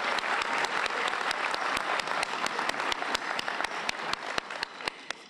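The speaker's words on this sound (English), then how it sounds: "Let's give him another round of applause." An audience claps at a university welcome convocation for an interim chancellor, producing a dense, sustained round of applause that thins slightly toward the end with a few distinct louder claps.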